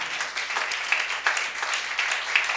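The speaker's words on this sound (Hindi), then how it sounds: "जोरदार तालियां खुदावन के कलाम के लिए" A church congregation claps for God's word during a sermon. The dense, steady applause fills the whole short moment with a few louder swells.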